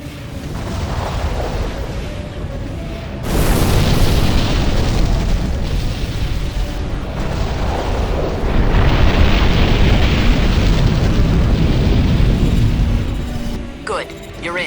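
Heavy cannon fire and booming explosions in the Armored Core video game, a dense continuous barrage of loud blasts and rumbling that swells and persists throughout, with game music and effects mixed in.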